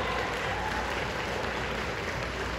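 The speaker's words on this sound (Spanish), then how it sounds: "Un aplauso para la Concomics, que siempre nos trae buenos invitados." A crowd at the Concomics fan convention in Guadalajara gives a sustained round of applause, thick and steady clapping from many people filling a large hall throughout.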